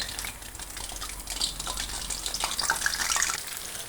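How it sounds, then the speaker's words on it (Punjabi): Halved bell peppers frying in hot oil give a steady crackling sizzle, with brighter spitting pops growing denser toward the end, close and moderately loud. "ਮਿਰਚਾਂ ਦੇ ਗੱਬੇ ਤੋਂ ਕੱਟ ਲਈਆਂ ਤੇਲ ਚ ਪਾ ਫਰਾਈ ਕਰਾਂਗੇ"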